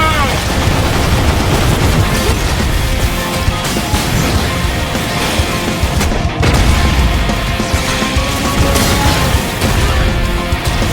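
Dense, continuous video game combat in F.I.S.T., with rapid gunfire and missile blasts overlapping into a loud, unbroken barrage, one brief dip midway before the shooting resumes.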